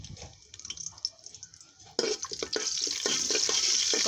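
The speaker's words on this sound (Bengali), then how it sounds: "তেলটা গরম হয়ে গেছে, দিয়ে দিচ্ছি দারচিনি এলাচ" Cinnamon, cardamom and bay leaves hit hot soybean oil in a pot, first quiet scattered taps and crackles, then a sudden loud sizzle that keeps hissing steadily and close.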